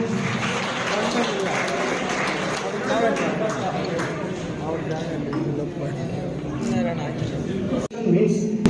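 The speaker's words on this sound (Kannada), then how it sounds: "ಎಲ್ಲರೂ ಚಪ್ಪಾಳೆ ಮಾಡಬೇಕು ಹೊಡಿಬೇಕು" An audience applauds at a symbolic tree-watering ceremony in a hall, with steady sustained clapping for several seconds over a speaker's voice, then a brief cut and a renewed burst near the end.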